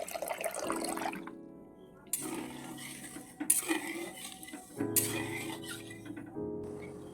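Water is poured into sugar in a bowl to make syrup, a soft splashing trickle in several pours broken by brief gaps, with faint clinks of kitchenware.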